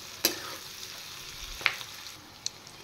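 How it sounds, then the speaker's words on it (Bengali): Chopped green chilies and onions fry in oil in a pan, giving a soft steady sizzle with a few sharp clicks of a spatula against the pan, close by and with no talking. "এবার আমি দিয়ে দেবো এখানে বেশ কয়েকটা কুচিয়ে রাখা কাঁচা লঙ্কা। এবার আর একটু ফ্রাই করব।"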